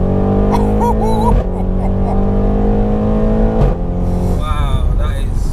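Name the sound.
800bhp methanol-injected Audi RS6 accelerating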